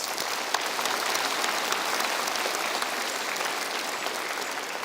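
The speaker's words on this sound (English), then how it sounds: "So can we please give them a huge round of applause?" A large crowd at a university mathematics graduation ceremony gives sustained applause for volunteers, students and staff, a thick, even roar of many clapping hands that holds steady throughout.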